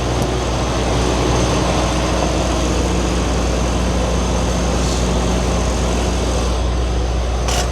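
Strong wind in a snowstorm roars steadily around a truck, a loud, continuous low rumble with a few faint gusting swells over its length.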